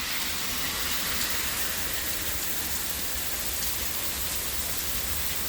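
Steady, dense rain pouring during a thunderstorm in Montreal's Hochelaga neighbourhood, a loud, even hiss of drops on surfaces throughout with no talk.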